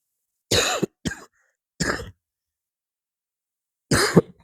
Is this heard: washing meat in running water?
no